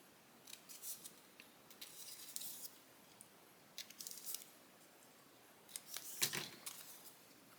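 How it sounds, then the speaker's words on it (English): Scissors snipping the small corners off paper for a fairy wings craft, several short, close, soft cuts spread out with pauses between them, no voices. "Cut these little corners off."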